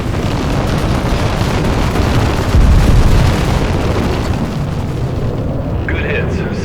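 Bombs released from attack aircraft explode in a continuous rumbling roar with a heavy low boom building near the middle, under radio chatter.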